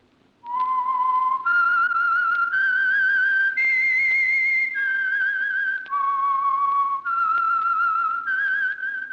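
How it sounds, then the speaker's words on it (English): A lone whistler carries the haunting melodic theme of the 1946 Signal Oil radio drama The Whistler: a slow series of sustained, clear, pitch-shifting notes, loud and close, with no talking. "That whistle is your signal for the Signal Oil Program, The Whistler."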